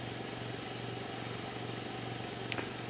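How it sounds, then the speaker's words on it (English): A steady, loud roaring rush of air runs without a break, with a low hum beneath and a brief faint squeak near the end. "And what you're hearing is the blower, which induces the draft."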